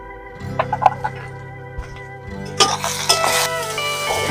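Prawns fry with onion in a pan, starting with a low sizzle and light clinks that swell into a louder, brighter crackle halfway through, with no one talking.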